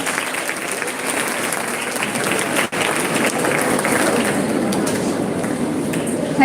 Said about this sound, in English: Let's welcome Dr. Sadhana Dash with a big round of applause